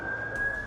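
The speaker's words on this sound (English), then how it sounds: "sirens are heard in the background as reinforcements arrive" A police siren wails steadily at close range as reinforcements arrive at a tense roadside arrest, one sustained tone running through the whole short moment.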